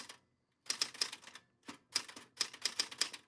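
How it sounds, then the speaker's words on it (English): Mechanical typewriter keys strike in quick clattering bursts during poetry typing, with a few short pauses between runs and occasional bright bell-like pings, close and clear with no talking. "Can you guys hear the typing?"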